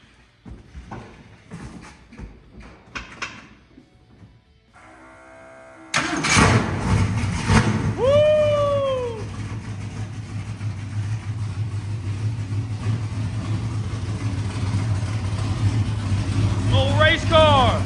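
Race car engine catches after quiet moments of talk, then settles into a loud, steady, rumbling idle that runs to the end, with brief squeaky chirps over it.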